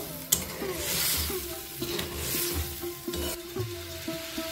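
Spice masala with a little added water is stirred in a pan for mutton keema, a bubbling simmer broken by repeated scraping strokes of a spoon against the pan, close and fairly loud with no voices.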